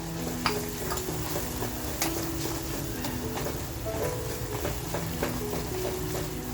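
Masala with turmeric and onions sautéed in a pan for a spicy crab kharda, giving a steady sizzle with repeated scraping and clinking of a spoon against the pan throughout.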